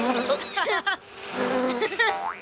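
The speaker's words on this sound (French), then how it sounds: "Je déteste les choses qui bourdonnent!" Flies buzzing in sustained, wavering drones that rise and bend in pitch, fairly close, with a short gap in the middle and the buzz returning afterward; the whine sounds stylized, like a cartoon effect.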